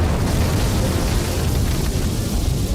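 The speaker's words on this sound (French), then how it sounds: "Les tranchées sont bombardées par l'ennemi." Artillery shells exploding on trenches in a Gallipoli war film, a dense, continuous rumble of blasts, loud and broadband with no clear gaps and no talk.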